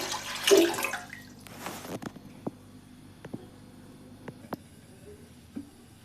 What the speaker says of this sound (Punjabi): ਇਹਨੂੰ ਆਪਾਂ ਚੰਗੀ ਤਰ੍ਹਾਂ ਦੋ ਤਿੰਨ ਪਾਣੀਆਂ ਦੇ ਵਿੱਚ ਧੋ ਲਵਾਂਗੇ